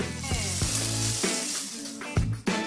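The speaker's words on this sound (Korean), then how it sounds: "먼저 당근과 호두, 강낭콩을 올리브유를 두릅팬에 적당히 볶아준다." Carrots, walnuts and kidney beans sizzle in olive oil in a frying pan, a steady close crackle beneath faint background music with a few clinks of stirring.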